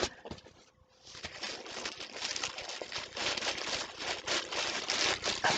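Taped paper package being torn open with crinkly crumpling and ripping paper sounds, close and fairly steady after a brief quiet gap.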